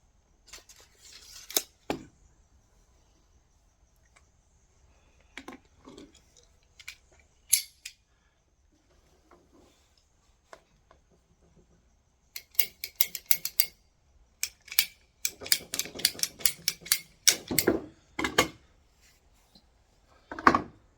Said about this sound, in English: Good tool, ratcheting pipe cutter, great for PVC, makes a nice clean cut.